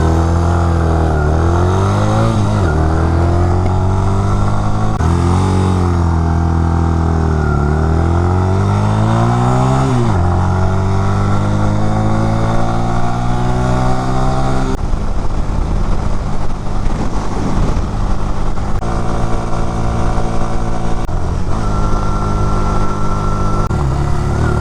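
Honda Rebel 250 small motorcycle engine loud and close throughout a quick first ride, revving up through repeated gear changes with rising and falling pitch, no talking.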